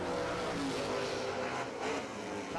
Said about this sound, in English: that's a Volkswagen stick-shifted machine